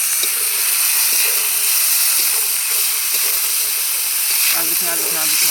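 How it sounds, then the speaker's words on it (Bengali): Water splashing into a hot pan of braised meat at an outdoor picnic cookout, a loud steady hiss of steam and sizzle filling the whole stretch, with faint voices near the end. "এখন এখানে জল দেওয়া হবে।"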